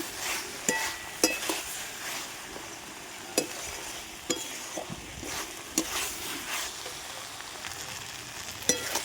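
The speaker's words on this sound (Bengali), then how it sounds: "মশলা দিয়ে একটু কষে নেব" Spices sauté and sizzle in a pan with a steady frying hiss, punctuated by sharp scraping clinks of a spatula stirring at irregular intervals, no talking.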